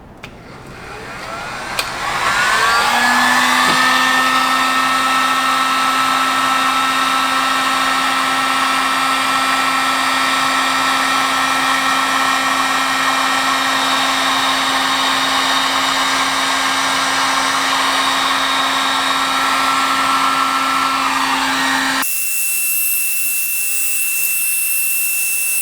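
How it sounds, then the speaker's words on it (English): A heat gun blows steadily over weatherproof heat shrink tubing on crimped wires for a BMW ignition setup, a loud continuous whine and rush that starts after a click, runs unbroken for about twenty seconds, then cuts off. "I've got all the wires crimped together. Now it's time to heat shrink everything."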